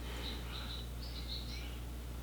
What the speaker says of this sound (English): We've got a bunch of barn swallows.